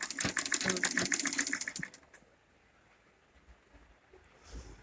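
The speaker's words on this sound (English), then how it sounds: "Bit by bit you are sewing." A sewing machine stitches fabric for a baby nest in a fast, rattling burst of even needle strokes that stops partway through, leaving faint room noise and a brief knock near the end.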